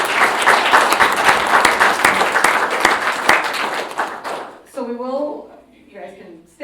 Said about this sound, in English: So can we give a round of applause for that?